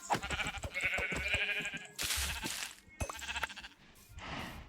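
Sheep in the Minecraft video game bleat repeatedly, several wavering synthetic baa calls following one another closely, loud and alone with no talk.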